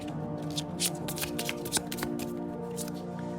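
Tarot cards being shuffled for a Cancer horoscope reading, a close, continuous riffling and flicking with soft taps throughout, fairly quiet and with no voice over it.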